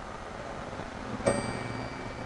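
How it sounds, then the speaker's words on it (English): Telephone on a step-by-step exchange line near Florida, New York, rung on both ring and tip, giving a single brief metallic ding that fades over a quiet background hiss. "the phone's just going ding occasionally"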